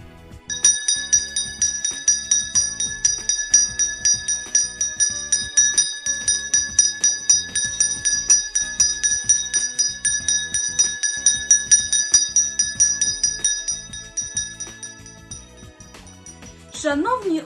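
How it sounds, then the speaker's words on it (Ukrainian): A school's first bell rings for the start of the school year, a bright metallic handbell struck in rapid, steady strokes for about fourteen seconds before it stops. "вона є перший дзвоник"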